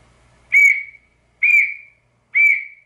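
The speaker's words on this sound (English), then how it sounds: "the whistle will travel much further distance and you can send out an SOS signal with your whistle and get help that way" Three sharp, shrill blasts of a safety whistle blown for help while kayak fishing, each short and evenly spaced with silence between, loud and close with no voices.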